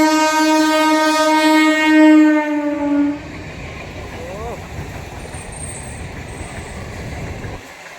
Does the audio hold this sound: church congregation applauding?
no